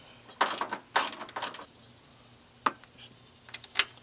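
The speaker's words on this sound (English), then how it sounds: "8mm socket and wrench." Metallic ratcheting clicks from an 8mm socket wrench loosening a battery bolt on a GMC Yukon or Chevy Tahoe, in several short bursts followed by a few sharp isolated clicks, close and moderately loud.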